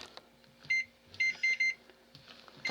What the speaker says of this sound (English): we shall put it in the microwave and nuke it for a minute